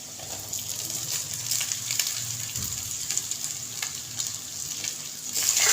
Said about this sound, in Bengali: পেঁয়াজটা ভাজা হয়ে গেছে, এবার দিয়ে দিচ্ছি ভাতগুলো